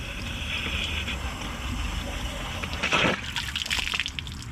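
Water flushes sediment out of a tank on a Roo, a steady gushing and sloshing flow with a louder splashing burst partway through, close by.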